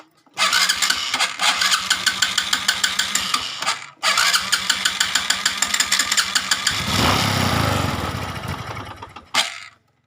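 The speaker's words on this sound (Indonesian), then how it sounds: "kita tes untuk uji nyalanya dulu. Nah, kita hidupkan dulu." A Honda Supra X motorcycle with a freshly repaired carburetor is kicked to life, sputtering in rapid irregular bursts, cutting out once, then restarting and revving loudly up close before stopping.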